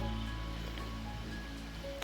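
Steady broadband rush of the Thenpadi waterfall in the Kalvarayan hills, a continuous even roar of falling water with no pauses, close and fairly loud, with no voices over it.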